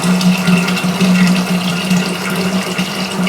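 Cool water pours steadily into a home-brewing batch for pumpkin rum, a continuous splashing rush with a low hum, close and fairly loud throughout, no talking.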